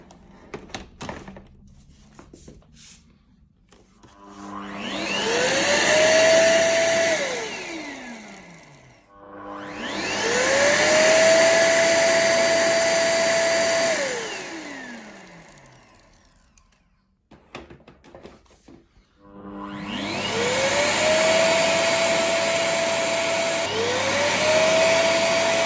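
A Roidmi X200 Jet cordless vacuum's auto-empty station runs three loud suction cycles to empty the dustbin, each a rising whine that holds steady and then winds down, separated by quiet gaps with clicks and thunks.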